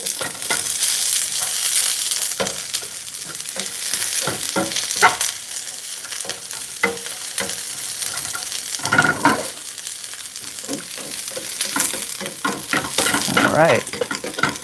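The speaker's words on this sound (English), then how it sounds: "You get to listen to the sizzle for a few minutes." Chinese long beans stir frying in a pan, a steady bright sizzle running throughout with intermittent scraping and stirring clatters from the utensil, close and fairly loud.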